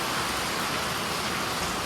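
Steady rain pours down over a village, a dense, even hiss with no breaks, close and moderately loud, and no voices.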